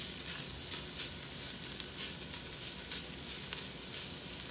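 Onions and garlic frying in a pan, a steady, dense sizzle that stays loud and even throughout, with small crackles and pops and no voices.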